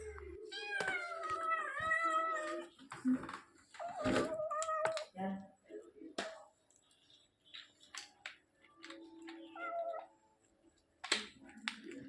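Injured house kittens, recently wounded by a large animal, give high, wavering meows early on. A person talks around and between the cries, and small tapping noises follow.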